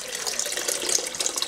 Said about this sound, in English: Now we're going to put our water in. Now we're using 4 cups of water.